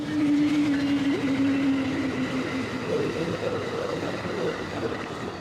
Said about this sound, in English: Woo, train.